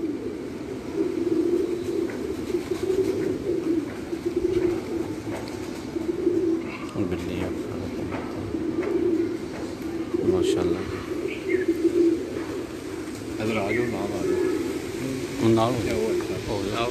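Pigeons cooing in a loft, soft low repeated coos going on steadily close by, with chirps now and then and someone talking over them.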